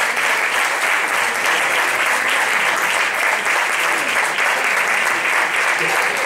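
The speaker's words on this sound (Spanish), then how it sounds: "Un aplauso para él" An audience applauds loudly and continuously, a dense wash of clapping from many hands that holds steady throughout with no pauses.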